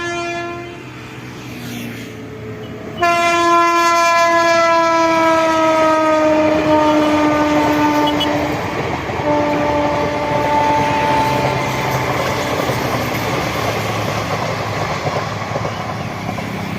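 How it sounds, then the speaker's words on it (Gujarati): A train passes on the line between Sihor and Rajpara near Bhavnagar. After a few seconds of rumble, a loud, close horn blast sounds and holds for several seconds over rolling wheels and clatter. "મિત્રો ટ્રેન આવી રહી છે,"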